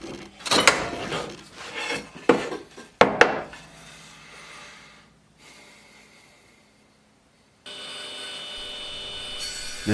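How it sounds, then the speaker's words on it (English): Wooden tracks are being cut for a wine glass shelf: a few sharp, rasping strokes of sawing and scraping up close, then quieter rubbing that fades to near silence before a faint steady hum. "Now I'm cutting the 2 tracks for the wine glasses to be able to be hung onto the shelf"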